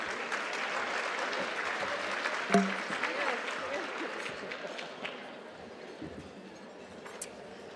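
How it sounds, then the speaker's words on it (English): An audience breaks into sustained applause to welcome a speaker at a talent and management event, dense clapping filling the room, with a brief sharper clap or knock near the middle before the applause gradually tapers. "please give your attention and a big round of applause for Miss Jen Sudduth, please."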